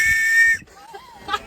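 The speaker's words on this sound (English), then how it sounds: "I knew this whistle would come in handy." A whistle blown for help from a broken-down boat: one loud, shrill blast lasting about half a second, followed by quiet with a faint squeak.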